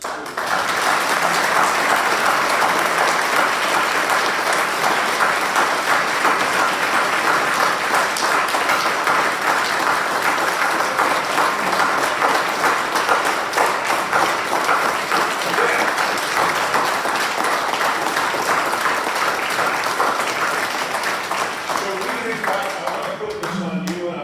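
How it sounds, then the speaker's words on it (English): Sustained, even applause from a banquet audience at a law-enforcement awards event, honoring police officers, with steady dense clapping throughout and no break. "Let's applaud our police officers"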